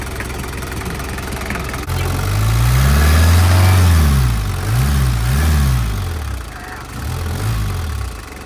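A car engine revs up hard several times in rising and falling bursts, loud and close, after a quieter idle at the start.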